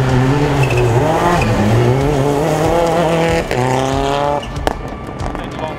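Rally cars, a Toyota Yaris AP4 and a Hyundai i20, race on a Rally NSW stage in 2022. Loud, close engines rev and shift while tires squeal, and the roar carries on without a break.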